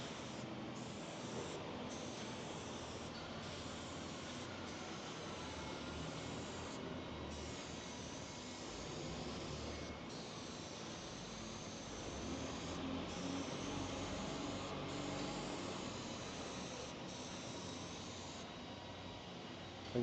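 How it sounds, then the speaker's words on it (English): Spray glue hissing from an aerosol can onto the back of a tool insert in a workshop, a long steady soft spray with brief pauses and faint background noise, no talking. "I'm just adhering some spray glue to the back or bottom."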